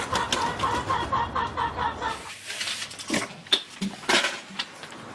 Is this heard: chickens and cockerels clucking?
yes